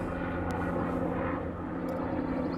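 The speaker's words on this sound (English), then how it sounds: "That's a helicopter. Never mind." A helicopter flying overhead, its steady engine and rotor drone continuous and fairly loud for a few seconds, with no one talking.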